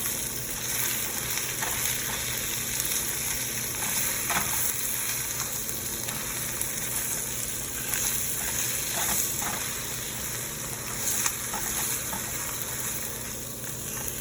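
Spinach fries in a hot pan, pressed down as it wilts, for a roasted garlic Alfredo: a steady close sizzle with scattered crackles and pops throughout, no voices.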